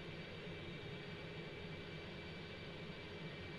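A steady, loud roar of an F/A-18 jet engine idling before takeoff in X-Plane 11, a broad continuous drone with a faint high whine held evenly throughout, no voices.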